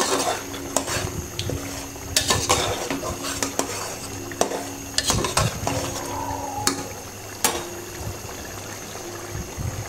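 Beef being stirred and braised with water in a pot for a chana dal curry, with repeated sharp metal spoon knocks against the pot, liquid sloshing and scraping, close and intermittent.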